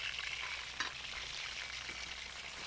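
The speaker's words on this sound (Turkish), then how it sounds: "Bir de tavuk kızartıyor orada." Steady crackling sizzle of chicken frying over an open wood campfire on a mountain, continuous and fairly close, with a few sharper pops and no talking.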